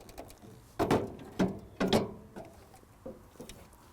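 An Allett C34E mower cartridge unit slid out of engagement, a few close mechanical clunks and ratcheting knocks of metal parts shifting along guide rails, followed by quieter rattles, no voices.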